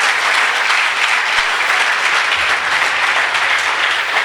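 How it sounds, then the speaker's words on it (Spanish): Sustained applause from a church congregation at a Christian congress, a dense, steady wash of clapping hands that fills the space evenly for the whole stretch without pauses or voices on top. "Den un aplauso al Señor"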